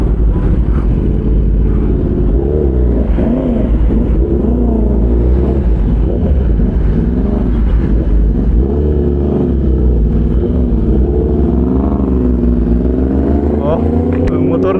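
A Kawasaki ZX-10R sport motorcycle engine drones steadily under the rider in a low, continuous rumble with wavering pitch as the throttle shifts. It stays loud and close throughout, with no clear pauses.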